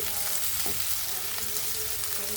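Sliced onion frying in oil with a split bay leaf and two white cardamom pods, for a prawn korma: a steady, close, unbroken sizzle with faint stirring, no voices.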